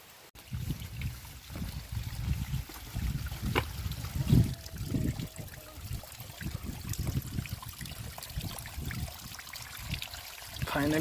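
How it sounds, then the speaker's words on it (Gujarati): Rainwater begins running down a hillside path near a hilltop temple, a steady trickling wash with low rumbling bursts and faint voices in the background. "ફાઇનલી વરસાદનું પાણી ચાલુ થઈ ગયું છે"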